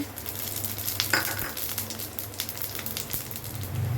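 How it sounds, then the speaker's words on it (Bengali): Dried red chilli, bay leaf and panch phoron hit hot oil as a tempering for bitter gourd and pea dal, giving a continuous close sizzle with scattered pops and crackles and no voices. "ফোড়নে দিচ্ছি শুকনো লঙ্কা তেজপাতা আর দিচ্ছি পাঁচফোড়ন"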